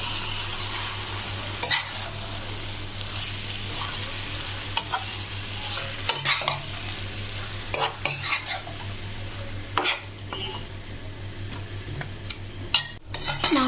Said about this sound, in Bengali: ততক্ষণ অবধি মাংসটা ভালো করে কড়াইয়ে কষাই।